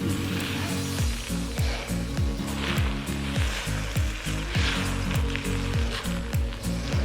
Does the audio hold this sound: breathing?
no